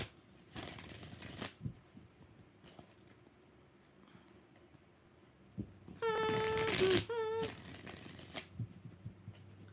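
Tarot cards are shuffled by hand in two short bursts of riffling and flapping. A louder burst with a faint tonal whine over it comes later. Soft handling noises fill the gaps in an otherwise quiet room.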